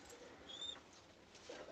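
Pigeons kept for sale give a soft, faint coo amid quiet background hiss, with a thin high chirp briefly standing out.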